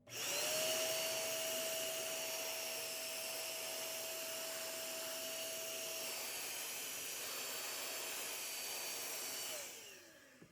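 A can of compressed air blows dust out of a desktop computer with a loud, continuous hiss and a steady whistling tone. It runs for about nine seconds, then cuts off.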